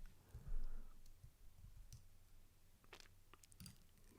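Computer mouse clicking while working in Photoshop, a few short, faint clicks spaced irregularly over a quiet, low room hum, with no talking.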